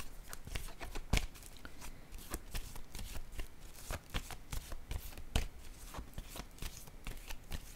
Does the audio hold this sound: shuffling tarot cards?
yes